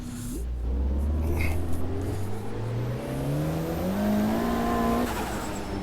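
A rally car engine in the racing video game Automobilista 2 climbs steadily through the revs on a dirt track, rising in pitch across gear changes, loud and continuous with faint tire noise.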